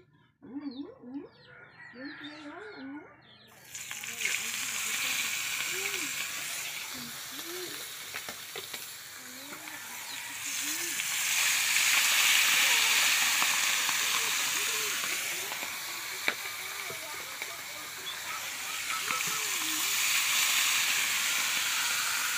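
Steady sizzling and crackling of tamban sardines frying in hot oil, with a few faint background sounds and occasional murmurs.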